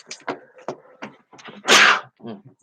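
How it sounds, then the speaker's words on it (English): A single loud sneeze bursts out after a run of short sniffs and breathy catches, close to the microphone indoors, followed by a brief trailing exhale. "I feel a sneeze coming on"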